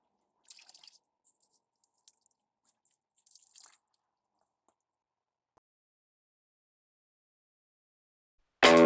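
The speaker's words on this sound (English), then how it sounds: "We're gonna wring that out until it's on the verge of dripping." A soaked sponge is wrung out, giving a quick run of soft squishes and wet drips that are faint and close, then fade into near silence, with a sudden loud burst at the very end.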